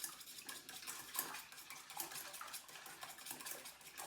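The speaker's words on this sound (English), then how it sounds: "We're just gonna whisk it up a little bit." A whisk clatters briskly against the sides of a bowl, mixing wet bread ingredients in steady, fast strokes with a light metallic scraping and faint liquid slosh, close and alone.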